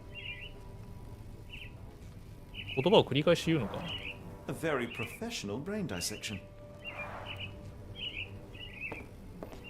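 Birds chirping in a courtyard in Sherlock Holmes The Awakened, short high repeated tweets that come in small clusters, faint and intermittent, under a voice and spoken narration.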